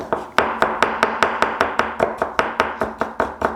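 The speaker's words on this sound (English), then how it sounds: "I want to slice it really thinly" A knife slicing food very thinly while preparing sous vide Hainan chicken rice: about fifteen crisp, evenly spaced cuts striking the board in a steady brisk rhythm, close and clear with no talking.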